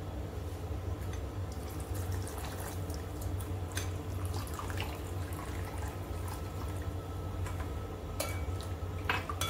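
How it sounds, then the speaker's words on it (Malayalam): Boiling water is poured over jelly powder for a mango sago dessert and stirred, giving a quiet, continuous trickle with scattered spoon clinks and taps close by. "ഇനി ഇതിലേക്ക് നല്ല തിളച്ച് വെള്ളം ഒഴിച്ചിട്ട് മിക്സ് ചെയ്ത് കൊടുക്കുക"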